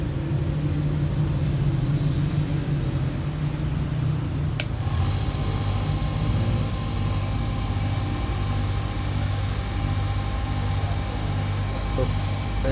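A gem-cutting machine motor, fitted in place with its bolts not yet tightened, switches on partway through and runs with a steady hum and broadband whir over an already noisy, droning workshop background.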